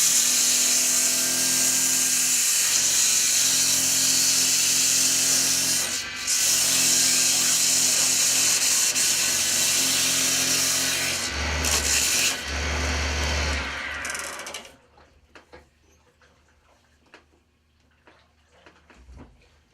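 Coarse 60 grit sandpaper rubs hard against wood on a homemade lobster tickle stick, a loud continuous scratchy abrasion near at hand with brief pauses, then a low rumble and quiet scattered clicks at the end.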